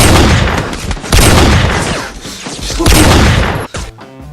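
Rapid sniper rifle gunfire in a first-person shooter video game, no-scope shots fired one after another, loud and dense with booming reports and crashes filling the whole stretch.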